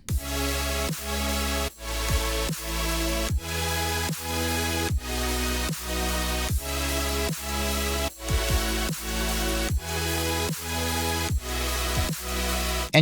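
Original version of a melodic dubstep drop: loud pulsing electronic music with heavy sub-bass hits and pitch-bending synth swoops in a steady rhythm, dense layered leads above, no voices.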